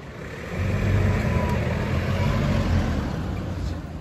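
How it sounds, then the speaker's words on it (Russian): A car drives past nearby with a loud, rumbling engine and road noise that swells and then slowly fades. "Какая шумная машина."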